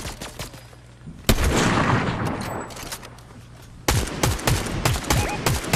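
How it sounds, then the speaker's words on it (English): Bursts of gunfire from a rival team in the video game Fortnite, with a loud volley starting just past a second and another sharp run of shots near the end, sounding fairly close. "We're getting shot at by another team over there."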